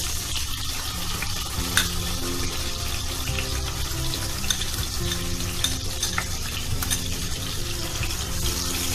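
A thick cashew, almond, sesame and cardamom paste sizzles and spits in a hot pan, with a constant crackling fry and occasional scraping of a utensil.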